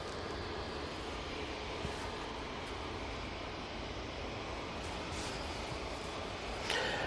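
A passenger jet at Manchester Airport makes a steady, broad roar that lasts about seven seconds. It sounds distant and blends with wind, and no voices are heard.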